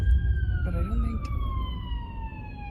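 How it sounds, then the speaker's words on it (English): An ambulance siren passes beside a hospital, a steady wailing tone gliding slowly downward as it moves away, clear over low traffic rumble with a brief murmur of voices in the background. "And there's an ambulance."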